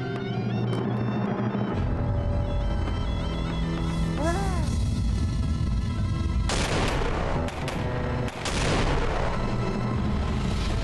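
Firecrackers burst repeatedly during Chaharshanbe Suri celebrations, a rapid series of sharp bangs and crackling pops echoing from moderate distance, with a dense flurry partway through.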